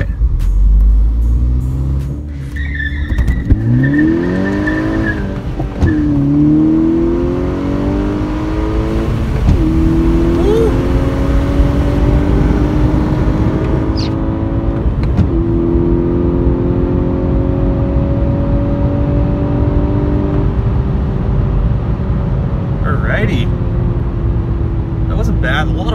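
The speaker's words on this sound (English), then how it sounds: "I'm gonna do a 0 to 100 test. Turning my traction control off." A 2014 MK6 VW GTI accelerates hard from a standstill in a 0 to 100 run, its engine rising in pitch through the gears with shift breaks. It is heard from inside the car, loud and close, with someone talking over it.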